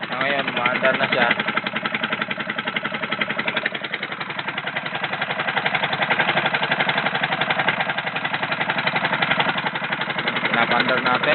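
A Piaggio Ape 200cc engine runs after an overhaul, with a new block and a cut-off exhaust, chugging in a steady, rapid pulsing rhythm up close while someone talks over it.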